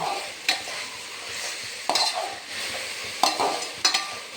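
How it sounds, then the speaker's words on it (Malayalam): Chicken curry fries and sizzles in a pan under a steady hiss, with a spoon stirring and scraping through it in four sharp strokes spaced a second or so apart, close by and alone. "ഇത് മൂത്ത് വരുന്നതേ ഉള്ളൂ. ഇളക്കിക്കൊണ്ടിരിക്കുകയാണ്."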